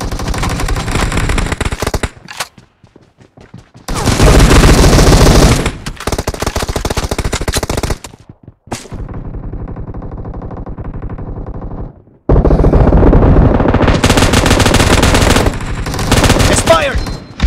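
Loud bursts of automatic gunfire from a video game team deathmatch, with long rapid volleys separated by short pauses and a quieter stretch of fire in the middle.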